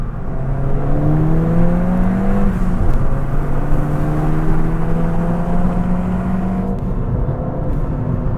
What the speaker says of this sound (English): I actually think the car should have came with an exhaust sounding like this from factory